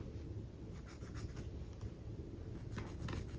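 A pen scratches marking lines onto fabric in short, close strokes, a soft repeated scraping with quiet gaps between the marks.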